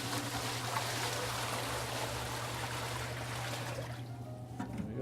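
Fifteen liters of cold tap water pour in a continuous, rushing stream for Neapolitan pizza dough made with Caputo 00 flour, then the flow cuts off near the end.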